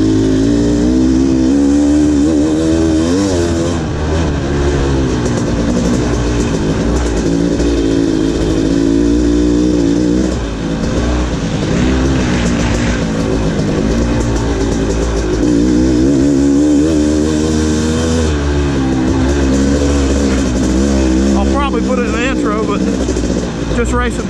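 500cc dirt bike engines racing at the back of the pack in a 2019 VCHSS Rattlesnake hare scramble, a loud, near, continuous revving drone rising and falling through gear changes, with speech woven through the engine noise.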